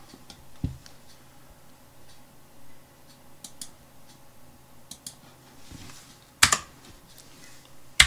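Keyboard shortcuts typed in DesignSpark Mechanical CAD software, a few scattered, close key clicks separated by pauses, with a louder pair of taps near the end.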